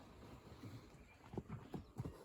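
A horse walks along under a rider, its hooves giving a slow, regular clip-clop of four or five distinct thuds, moderately close and fairly soft, with no voices.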